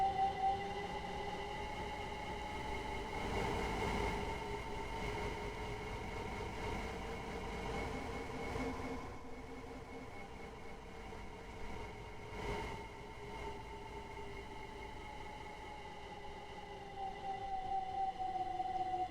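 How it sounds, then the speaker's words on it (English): A Minecraft train rolls into a station, a long, steady mechanical rumble with tonal whining hums that fades down in the middle and builds again near the end, with no one speaking. "There should be a train"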